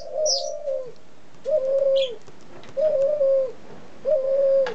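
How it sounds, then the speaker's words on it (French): Laughing doves cooing nearby in four evenly spaced, drawn-out rolling coos, with a few brief higher chirps in between and no talking. "Vous pouvez entendre aussi que je suis bien accompagné avec les rieuses qui roucoulent à côté de moi."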